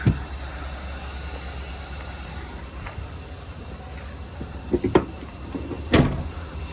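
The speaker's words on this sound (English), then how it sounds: "Closing the doors and heading out." Doors of an expedite cargo van thud shut, a few sharp knocks near the end standing out over steady idling engine and road rumble.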